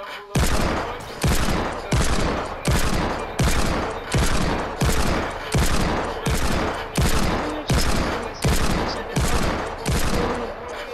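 Rapid bursts of Desert Eagle hand cannon fire in Fortnite repeat about a dozen times in an even rhythm, each shot loud, punchy and sharply cut off.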